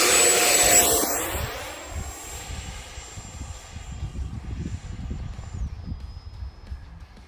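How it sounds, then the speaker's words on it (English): A small FMS 64mm Rafale RC jet with an electric ducted fan is hand-launched, its high-pitched whine loud and close at first, then steady as it flies off, over a constant low rumble of wind. "let's get this plane up in the air and go flying"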